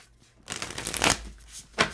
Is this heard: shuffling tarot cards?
yes